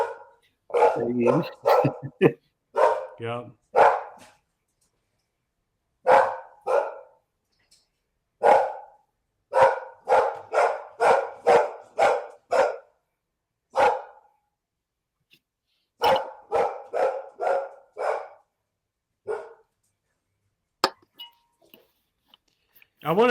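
A dog barks in repeated bursts, some single and some in quick runs, separated by silence. A person says a brief word once.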